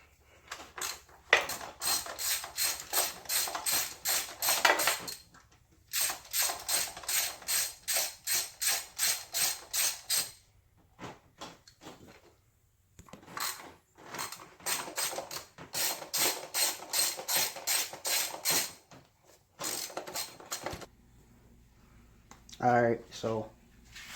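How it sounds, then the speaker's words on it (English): A hand ratchet clicks in rapid bursts while loosening valve cover bolts on a Dodge Charger 2.7 engine during a head gasket job, with several pauses between bolts and a brief voice near the end. "Alright, so all valve cover bolts are loose on this side."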